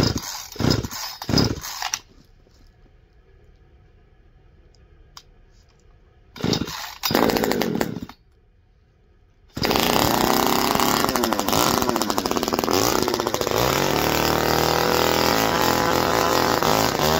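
A chainsaw cuts into snow: short loud bursts of engine revving, a quiet stretch, another burst, then a long, steady, full-throttle roar close by.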